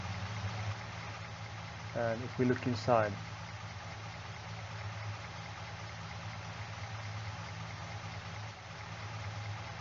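Steady low idle of a car engine in Farming Simulator 22, a constant near rumble throughout, with someone briefly talking over it partway through.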